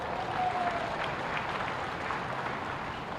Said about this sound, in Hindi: जितने लोगों के पास मोबाइल है वो सब लोग जरा एक बार जोरदार ताली बजाएं।